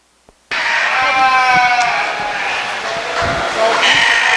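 Ewes at a Dorper sheep show bleat loudly and close by. Their overlapping calls run continuously for several seconds after a brief quiet start.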